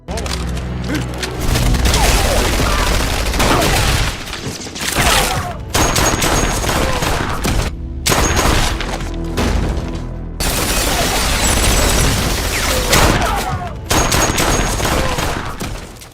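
Dense bursts of gunfire and booming blasts fill a chaotic film battle scene, loud and nearly continuous with brief gaps between volleys.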